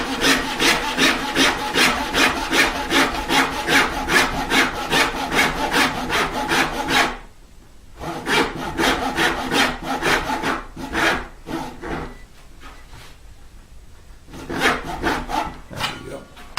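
A hand saw cuts wood for an electric guitar body build with fast, even back-and-forth strokes, loud and close, then pauses and resumes in shorter bursts of rasping strokes.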